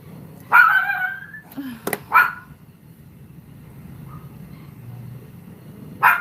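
Pomeranian dog barking indoors, a few sharp yappy barks separated by pauses, close and loud over a low room hum.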